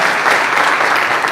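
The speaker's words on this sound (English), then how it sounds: "Give them a round of applause." Crowd applause at a county fair opening ceremony, a dense steady wash of clapping from a large outdoor audience, sustained and fairly loud throughout the short stretch with no talk over it.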